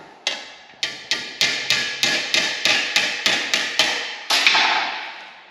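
Car body sheet metal is hammered on a stretcher used as an anvil: about a dozen loud, sharp metallic blows in a steady rhythm, each ringing briefly, close by with no talk.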